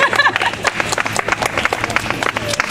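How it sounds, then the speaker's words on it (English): A crowd at a community rally in Richmond claps loudly and unevenly, with sharp individual claps standing out, and a few voices are mixed into the brief burst. "Okay, round of applause."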